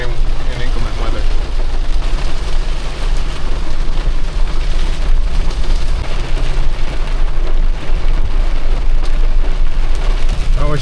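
Steady rain drumming on a vehicle while driving up through deep woods near a summit, a loud, continuous wash of rainfall over low road and engine rumble, with someone talking throughout.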